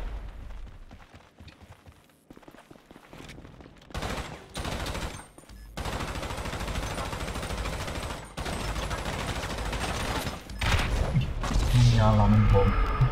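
Shotgun blasts and other gunfire in GTA Online come as scattered loud bursts and booming hits over ongoing game noise, with people talking throughout.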